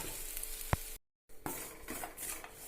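Sliced onions sauté in a pan for a potato peralan curry, giving a steady close sizzle. A few sharp scrapes of stirring sound over it, and there is a brief moment of silence partway through.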